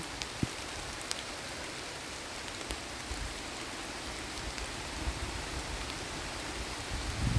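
Steady rain falls outdoors, a continuous moderate hiss with scattered sharper drop ticks throughout and no voices.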